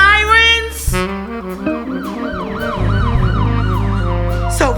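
Sirens wail in rising and falling sweeps over a deep sustained drone and rumbling traffic, loud and close, running the whole stretch with a sharp rising whoop at the end; no voices.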